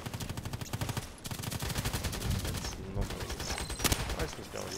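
Fast automatic M4A1 Custom rifle fire in the Contract Wars shooter, with sustained rapid bursts of loud shots, brief gaps between them, and a voice talking underneath.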